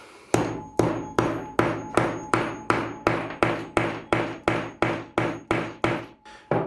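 Heavy hammer blows ring out on a metal hole punch at a steady pace, about fourteen sharp, loud strikes each followed by a short metallic ring.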